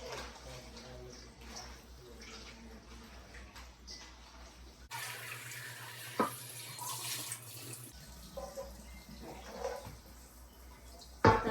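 Vegetables for sofrito are washed under a running kitchen tap, a steady close stream of water that changes tone partway through as the flow hits the produce, with faint handling sounds.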